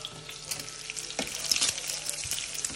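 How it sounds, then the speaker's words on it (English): Bacon frying in a pan alongside Brussels sprouts cooking with honey sriracha, a dense close crackling sizzle with spitting pops and occasional stirring scrapes, steady throughout with no talk. "our bacon is getting nice and brown"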